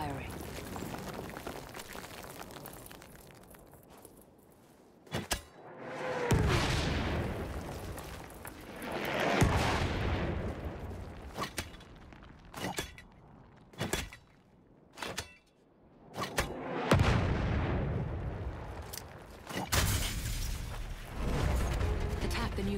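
An enemy artillery barrage in the Battlefield 1 video game, with repeated heavy booming blasts and rumbling swells over about twenty seconds, some near and loud, mixed with mechanical clanks and sharp clicks, while in-game voices speak.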